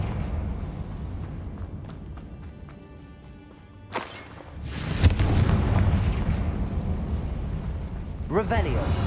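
A Confringo fire spell blasts in Hogwarts Legacy, a sudden loud whoosh and boom followed by a sustained fiery roar, with a further crackling burst near the end over ongoing game sounds.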